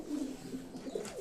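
Pigeons, including chocolate-coloured birds, in a large rooftop cage give soft, low cooing calls that repeat in a steady murmur, close by and moderately loud with no talk over them.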